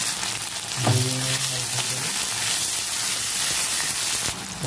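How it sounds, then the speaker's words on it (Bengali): Green chili, chopped onion and tomato hit hot oil in a karahi with a loud, close, continuous frying sizzle and crackle that holds steady throughout, with a brief clatter near the start. "এবার আমি কড়াটার মধ্যে তেল দিয়ে দেবো, একটা কাঁচা লঙ্কা দেবো, পেঁয়াজ আর টমেটো কুচিটা দিয়ে দেবো"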